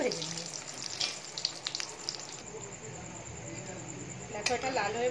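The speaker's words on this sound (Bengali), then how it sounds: "একটু লাল করে কড়া করে ভেজে নিই।" Potato and pointed gourd chops fry in hot oil with a crackling sizzle and sharp spatters that come and go, close by, under occasional voices.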